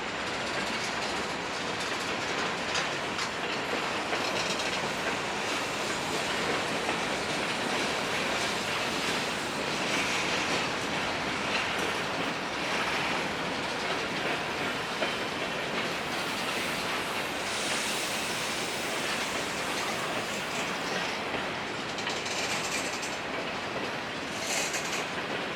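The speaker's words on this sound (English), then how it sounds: "This is a long train, and it's moving slowly, and it's not going to speed up any." A long CSX freight train rolls slowly past in Indiana, continuous rumble with rhythmic clickety-clack of wheels on rail joints, steady and moderately distant throughout.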